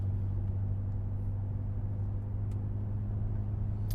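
Steady low engine drone from a 2015 BMW X5 M with a twin-turbo V8 and high-flow cats under normal driving, a constant deep rumble with no revving, heard from inside or near the vehicle.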